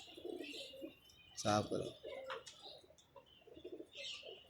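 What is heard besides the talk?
pigeons cooing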